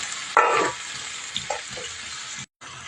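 A short burst of sizzling from onions and potatoes frying in a pan, followed by quieter crackles and a few light clinks, with no talking.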